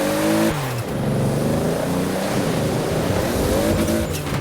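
Toyota Supra racing in Forza Horizon 4 battle royale, its engine revving hard and shifting, with tire noise and skidding, loud and continuous throughout.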